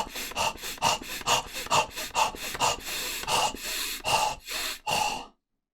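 Deep, slow breathing exercise: a dozen or so strong, close breaths drawn and pushed out in a steady rhythm, airy and rasping, with no talking, ending in sudden silence.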